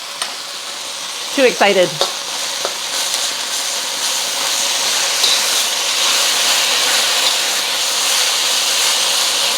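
Garlic, ginger and beef sizzle in a hot pan for a stir-fry with rice noodles, a steady bright hiss that builds and holds after a short burst of speech near the start.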